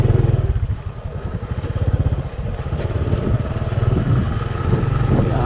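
A motorcycle rides over a bumpy dirt farm road in Cagayan, its engine a loud rapid putter that rises and falls with jolts and rattles from the rough surface.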